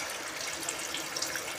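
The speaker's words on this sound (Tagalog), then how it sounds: "Ayan na, pwede na lagyan tubig." Water pouring into a cooking pot for a Filipino chicken and tamarind soup: a continuous splashing gush with small bubbly bursts, close and fairly loud, with no voices.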